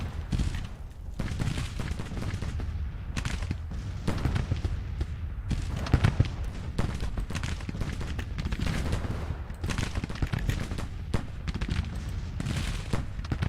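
Heavy, continuous rifle volleys and booming artillery roll through a Grand Tactician Civil War battle at Antietam, a dense, unbroken din of overlapping shots and blasts that never lets up.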